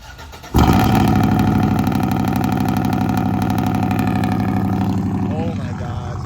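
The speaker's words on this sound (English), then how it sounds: "Let's get some cold start action going." A lifted mud truck engine cranks on a cold start and fires into a loud, rough idle that rumbles steadily, a slight squeal rising briefly near the end.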